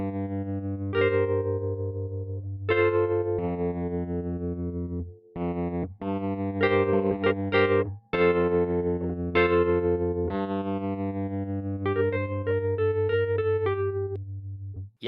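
Rhodes Wurli virtual electric piano, Wurlitzer-style, played with vibrato and speaker simulation on, giving warm chords and melodic notes with a wobbling, slightly gritty tone in a steady, clear phrase with short gaps.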